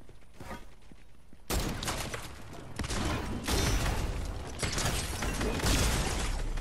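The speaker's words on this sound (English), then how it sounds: "I had to reload my shotgun." A shotgun being reloaded in Fortnite: a loud mechanical clatter and ratcheting bursts that begin abruptly after a quieter stretch and continue densely, with no talk over them.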